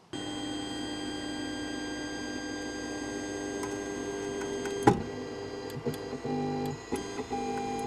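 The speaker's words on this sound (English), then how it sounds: "I was so annoyed with the sound that the printer was making" An Ender 3 3D printer runs with a steady mechanical hum and whine, with faint ticks and a sharp clack partway through, quiet and close with no talking.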